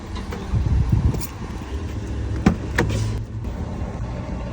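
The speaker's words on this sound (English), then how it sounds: "So we've already started the car and it's great." The Jaguar F-Type's engine idles steadily in the background at low volume, with a few short clicks and thumps from inside the car over the low rumble.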